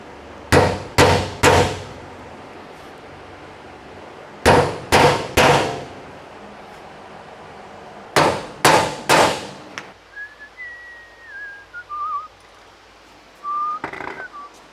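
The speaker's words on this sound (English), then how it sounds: "We'll do it with a hammer" Three quick hammer blows ring out, a pause, then another set of three, and again a third time, as a steel liner panel is knocked into place in a garage; a faint whistled tune follows near the end.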